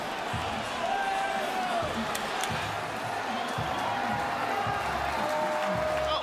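A home crowd roars approval of a referee's call at an NRL rugby league match between Wests Tigers and Knights, a broad sustained stadium noise with thumps and a commentator's voice over it.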